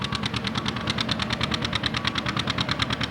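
A 1950 Model A John Deere antique tractor at a pulling event, its engine thumping in a steady, fast, even rhythm, loud and close, with no voices.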